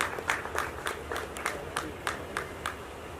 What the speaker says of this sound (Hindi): पुरजोर तालियों से इस्तकबाल करें